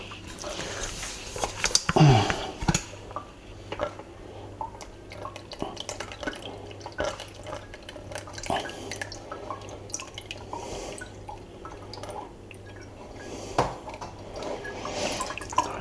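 Homemade plum wine drips and trickles as the last liquid is drained off thawed plums during decanting, a string of close, small irregular drips with one louder splash early on, against a quiet room background.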